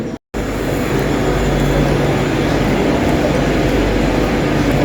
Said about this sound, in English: So here's my train.